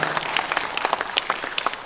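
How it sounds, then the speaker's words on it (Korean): Scattered audience clapping at a book launch event, a moderate burst of distinct individual claps with an uneven rhythm, fairly close. "예, 큰 박수 부탁드리겠습니다."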